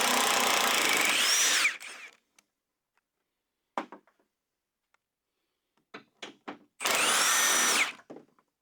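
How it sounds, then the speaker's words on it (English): A power impact wrench spins out 18 mm bolts on the passenger fender of a 1999–2009 Chevy Silverado GMT-800 pickup, in two loud, close bursts at the start and end with clinks and taps of handled tools and bolts between. "It's an 18 millimeter, and we're going to hit it with the impact"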